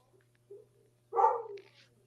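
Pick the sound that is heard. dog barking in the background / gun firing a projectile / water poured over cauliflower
dog barking in the background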